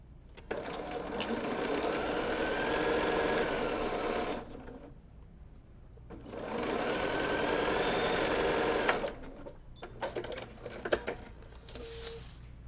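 Sewing machine stitching a 1/4 inch seam on a fabric triangle for a Wild Goose Chase quilt block, running in two steady bursts of several seconds each with a pause between, followed by quieter handling noises.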